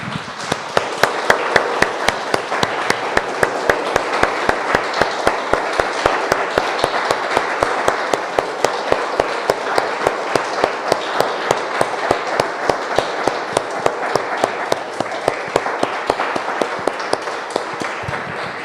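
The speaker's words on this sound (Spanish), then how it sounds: "Damos un aplauso, hermanos, al Señor" A church congregation claps in unison, sharp regular beats in a steady rhythm layered over a continuous bed of scattered applause, loud and close for the whole stretch.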